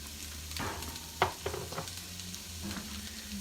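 Chopped red onions sweat in a pan for rhubarb chutney, with a low steady sizzle and a few distinct clatters of stirring, close and fairly quiet, with no talking.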